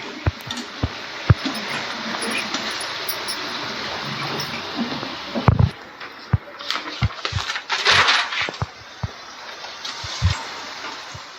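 Pakoras sizzle in hot oil with a steady crackling hiss, sharp pops and spatters breaking through, and a louder burst of bubbling partway along.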